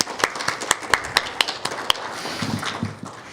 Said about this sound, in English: let's have a round of applause for CAF and the funders for making this event possible.